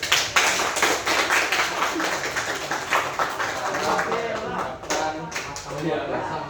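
An audience at a guidance-counselling session on resilience claps in appreciation, a dense run of rapid, overlapping hand claps that stays loud and fairly close, thinning briefly near the end before picking up again.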